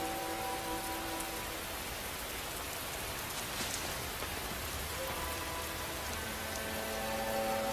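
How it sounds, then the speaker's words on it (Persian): Heavy rain falls steadily, a dense, even hiss of drops pouring on surfaces throughout, loud and continuous with faint tonal hints beneath. "به یمن قدوم فرزند شما باران به فدان می‌بارد"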